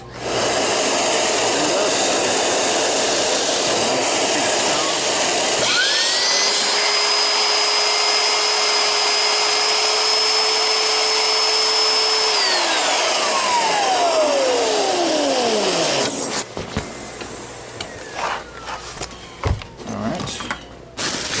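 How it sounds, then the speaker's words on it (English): A loud Oreck upright vacuum motor whines up to a steady high pitch during repair, runs for several seconds, then winds down, followed by clattering and knocking; a shop vacuum runs throughout. "when I run a machine is I put my vacuum hose on the end of here"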